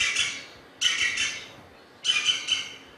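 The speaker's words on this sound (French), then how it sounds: "Ah, le pic vert." A green woodpecker gives loud, ringing laughing calls in three separate bursts of rapid repeated notes, each separated by brief pauses, with no talk.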